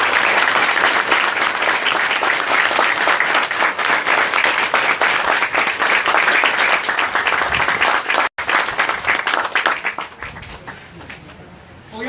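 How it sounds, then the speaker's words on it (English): Loud, sustained applause from a large audience at a groundbreaking ceremony, dense clapping that holds steady and then begins to thin and fade toward the end. "I want to give this board a rousing round of applause."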